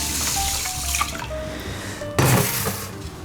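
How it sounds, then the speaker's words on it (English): Tap water running into a sink while something is rinsed and washed, a faint steady trickle with a sudden splashing burst partway through, then a gentler flow. "we're gonna rinse this out. Just give it another wash."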